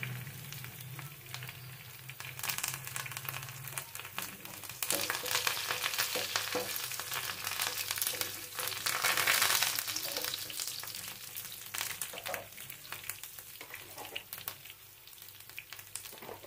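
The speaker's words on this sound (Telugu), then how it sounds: "ఇప్పుడు ఎండుమిర్చి వేద్దాం. కొంచెం కరివేపాకు కూడా వేసుకుందాం." Dried red chillies and curry leaves fry in hot oil with a dense, steady sizzle that swells and fades while being stirred, with no voices.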